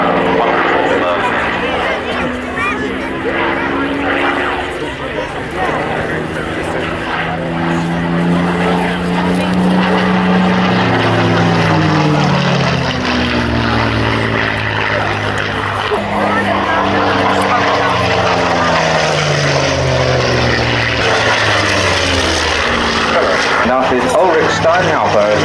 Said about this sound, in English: as we watch the Spitfire display in front of us